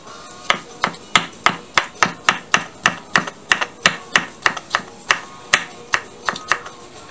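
Knife chopping pickled cucumbers on a cutting board for a quick potato salad, about twenty steady, crisp close-up strikes in an even rhythm, no talking.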